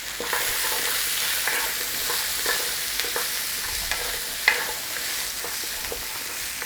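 Onions and mince frying in a pan for Scottish mince and tatties: a steady close sizzle and crackle, with light stirring scrapes and a sharper clack near the end.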